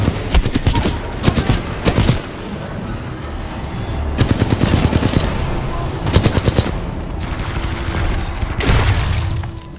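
Rapid bursts of automatic gunfire in the shooter game Titanfall 2, with sharp rattling volleys repeated several times and brief pauses between them, loud and close throughout.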